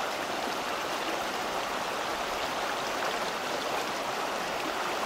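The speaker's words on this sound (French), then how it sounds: "vu que la rivière s'est éclaircie, je vais filmer un petit coup dedans" A river flows steadily in the open air after the water has cleared, a broad, even rushing and babbling that stays at the same level for the whole stretch, with no voices.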